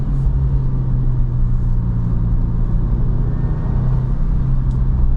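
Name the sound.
Subaru WRX car engine while driving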